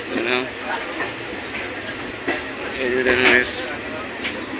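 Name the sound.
train moving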